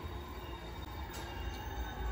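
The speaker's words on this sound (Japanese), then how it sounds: "まもなく3番線に特急草津84号上野行きが参ります。" A limited express train arriving at a station platform rumbles steadily nearby with a faint high squeal of wheels, a continuous low roar without pause.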